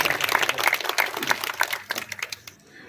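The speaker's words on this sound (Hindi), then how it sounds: "जोरदार तालियों से इनका स्वागत कीजिए" Brief applause welcoming a guest at a village and school gathering; a smaller group clapping in sharp, uneven bursts that thin out and stop within a few seconds.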